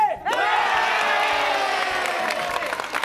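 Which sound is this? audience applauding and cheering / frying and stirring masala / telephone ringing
audience applauding and cheering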